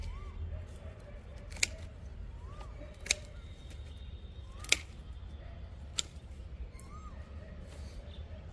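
Pruning shears snip a Casuarina equisetifolia bonsai in four sharp, isolated clicks a second or so apart, close and crisp against a quiet outdoor background with faint birdsong.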